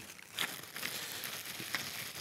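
A bag from a Bosch tool kit is handled close by, giving faint, soft crinkling and rustling in a few brief bursts over steady low background noise.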